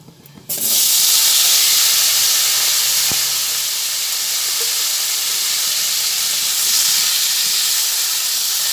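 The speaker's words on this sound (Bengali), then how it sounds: "আঙুরটা এরপরে ভেজে নিচ্ছি এরকম নাড়াচাড়া করতে করতে আঙুরটা আস্তে আস্তে নরম হয়ে যাবে" Grapes fry in a pan with turmeric for a sweet and sour chutney, giving a loud, steady broadband hiss that starts abruptly and holds without a break, with no talking.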